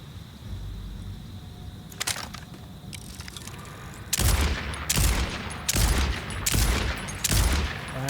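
A fast-firing gun in Borderlands 4 lets off a few scattered shots, then five loud, evenly spaced bursts of rapid fire ring out close by.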